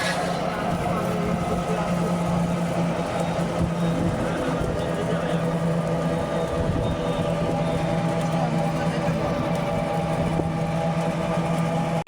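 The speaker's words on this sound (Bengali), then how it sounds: "এখন আছি নদীর নৌকাতে।" Engine of a river boat at Ichhapura runs steadily throughout, with a constant low droning hum and a loud, unbroken mechanical rumble.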